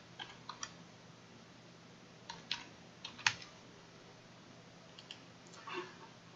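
Scattered clicks of keys being typed on a computer keyboard, a few isolated taps and short bursts, fairly quiet and close.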